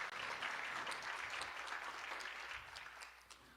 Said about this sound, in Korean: 모두 박수로 축하해 주시기 바랍니다.